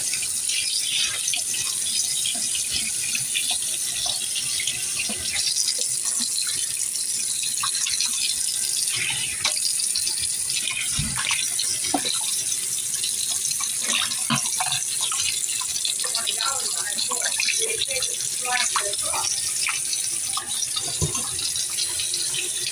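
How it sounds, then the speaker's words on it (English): Water from a tap runs steadily into a porcelain sink during cleaning, a close, continuous splashing rush with small gurgles throughout and no voices. "Then rinse this off."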